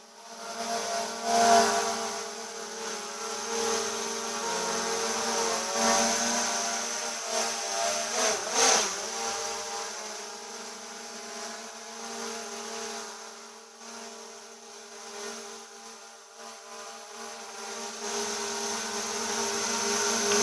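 A DJI Mini 4 Pro drone flying after an arm axis replacement, giving a steady, close electric propeller whine with shifting pitch that swells and dips over the whole stretch, with no talk.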